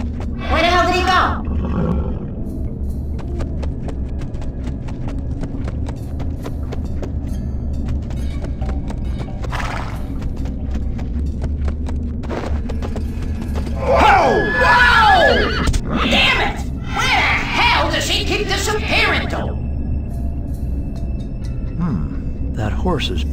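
A horse whinnies and gallops in the PSP video game Dead Head Fred, with loud neighing bursts and a roaring cry over a steady game backdrop, while someone talks at times.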